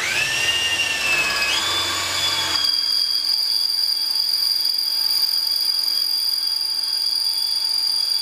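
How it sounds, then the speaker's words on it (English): A power drill whirs up with a rising whine, then settles into a steady high-pitched spin drilling into the wooden foot rest of a comb back high chair, running close and alone. "I'm going to drill this other one"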